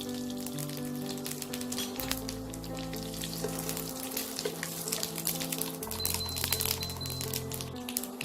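Cumin seeds and whole garam masala frying in hot oil for a Bengali khichuri, a steady close crackling sizzle with tiny spits and pops, with low tonal background music underneath.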